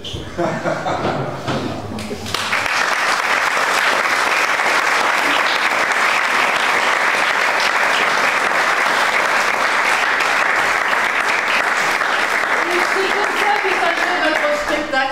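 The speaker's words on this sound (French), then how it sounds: "Je vais vous demander de les applaudir tous" Audience applause at a school end-of-year show for a Tuesday workshop group, starting after a brief moment of talk and then swelling into steady, dense clapping that continues loud and unbroken to the end.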